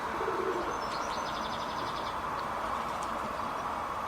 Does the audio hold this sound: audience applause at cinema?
no